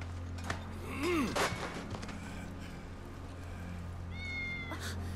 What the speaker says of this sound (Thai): เสียงแมวน้องแมวนี่มันแมวของเวจี้นี่ฮะ